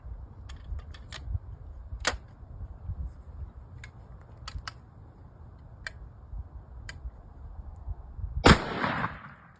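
A 20 gauge Hatfield custom shotgun fires one sharp, loud blast near the end of a fairly quiet outdoor stretch with scattered light clicks and ticks before it.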